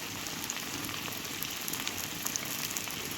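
Boiled unripe jackfruit with salt and turmeric frying in a pan for jackfruit curry, heard as a faint, steady crackling sizzle with scattered small pops.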